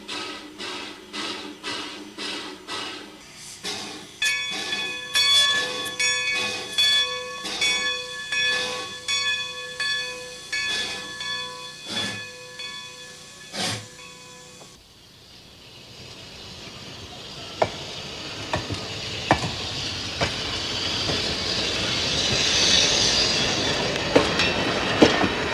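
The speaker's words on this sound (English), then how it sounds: "the train begins to back up onto the old siding" A steam train backs slowly onto an old siding with rhythmic clanking and wheel clicks, then shifts to steady rumbling and hissing as it keeps moving along the track.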